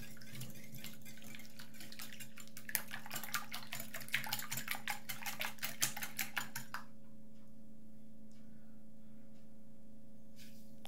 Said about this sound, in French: Avec un fouet, je commence à remuer. Je bats les œufs en omelette.